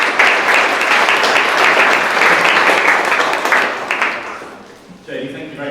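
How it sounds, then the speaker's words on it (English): An audience applauds to welcome a speaker at a university lunch talk, with dense, steady clapping that fades toward the end before a voice begins to speak. "I'm going to invite our speaker up, Nathan, so if you'd like to give him a round of applause."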